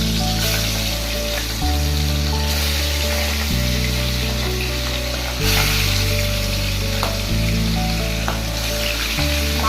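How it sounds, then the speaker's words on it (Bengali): Tangra fish sizzle in hot oil for a thin Bengali fish curry, a loud, continuous crackling fry that runs throughout beneath steady tonal background music, with no talking. "দেখো এখানে তেল গরম হয়ে গেছে, এবার আমি একে একে মাছগুলোকে দিয়ে দিব।"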